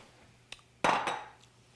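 A pan of chopped leeks and white onion shaken on the stove for home fries, a faint clink and then a loud metallic rattle and scrape that quickly dies away.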